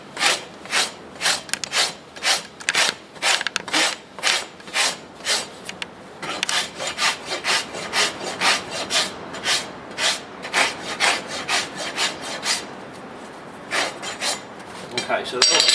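A rasp scrapes a horse's hoof in quick, rhythmic back-and-forth strokes, dozens of close, crisp passes with brief pauses between bursts.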